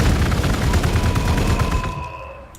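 Heavy, continuous gunfire from the Warhammer 40,000: Gladius strategy game, a dense loud burst of rapid shots and blasts that fades out at the end, with no voice.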